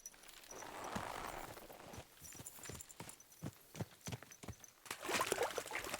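Horse hooves clop along at a steady walking pace in the video game Kingdom Come: Deliverance II, close and fairly crisp, with a brief rustle of movement between steps and no talking.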